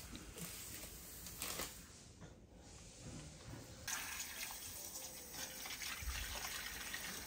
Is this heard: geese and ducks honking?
no